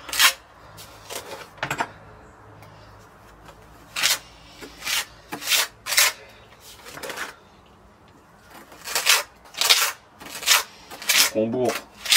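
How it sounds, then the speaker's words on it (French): Lime plaster being packed into gaps around a solid sipo entrance door frame with a spatula or trowel, heard as repeated short scraping and rubbing strokes in irregular bursts with pauses between them, fairly close and moderately loud. "On bourre là où il y a des trous"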